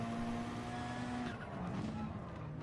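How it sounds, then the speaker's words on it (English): A Mitsubishi Evo race car in a racing game at Laguna Seca revs hard with a high, strained engine tone that shifts pitch midway, accompanied by faint tire noise, sustained and steady. "And revving out that Evo rather hard at the moment too,"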